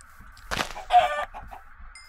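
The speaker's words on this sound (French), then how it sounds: "Et ah, des poulets." Chickens cluck in Minecraft, a few short clucks from the game's fowl heard up close and distinct against a quiet background.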